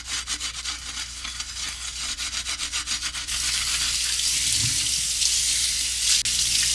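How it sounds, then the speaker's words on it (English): Dinnerware is scrubbed with the abrasive side of a Scotch scrubber, giving steady rhythmic rubbing strokes that turn into a continuous harsh scouring hiss, loud and close, with running water beneath. "We're going to scrub with our little Scotch scrubber that has an abrasive side"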